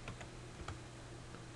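Numbers typed on a computer keyboard, a short run of soft, close key clicks in a quiet room, about half a dozen taps at an uneven pace.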